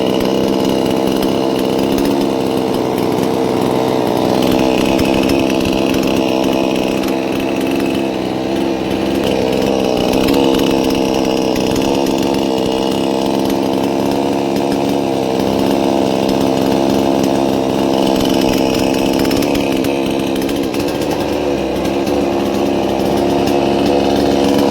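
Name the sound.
second-hand chainsaw engine running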